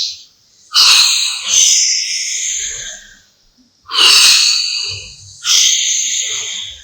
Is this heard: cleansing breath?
yes